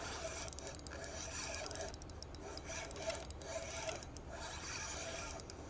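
A fishing reel's drag clicks and buzzes in a rapid, irregular run while a hooked walleye pulls out line on a guided trip, close and moderately loud against outdoor background noise.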